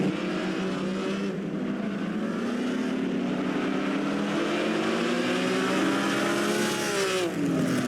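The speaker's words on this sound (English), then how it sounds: "The Ferrari driver is trying to close the gap between him and the leader, and Fangio is definitely under pressure now." Grand Prix race cars of 1950 on the Pau street circuit, a loud continuous engine drone with rising and falling pitch as the cars accelerate and pass, sustained throughout with no pauses.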